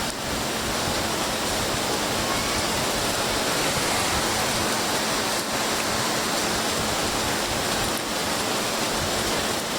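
Rain falls over an outdoor religious gathering, a steady, unbroken hiss of drops that stays even from start to finish, with no voices standing out.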